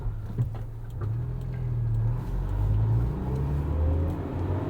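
A 1998 Acura Integra GSR sedan engine hums while driving, a close, steady rumble with revs rising and falling and a faint whir, no voices.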